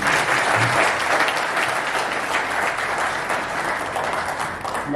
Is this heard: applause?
yes